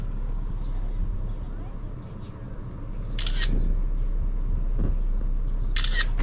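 A camera taking pictures outdoors by a truck, giving two crisp shutter clicks a few seconds apart over low engine or wind rumble, with someone talking in between.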